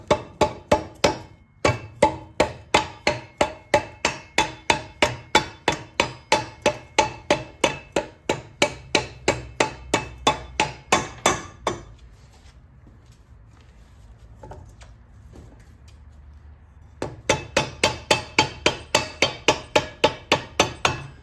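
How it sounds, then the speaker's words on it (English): Rapid, steady blows of a rubber mallet tapping chain drive kit parts into place on a 1987 Harley FXR, dozens in a row, pause for several seconds, then resume at the same brisk pace. "I like using just the rubber mallet to bang things in to get them started."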